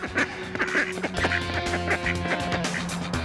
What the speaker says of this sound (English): Duck quacks do echo.